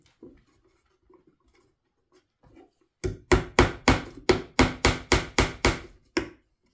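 Sharp hammer blows drive nails into the wooden front panel of a handmade birdhouse, about a dozen quick, evenly spaced strikes close by, following a few faint quiet knocks.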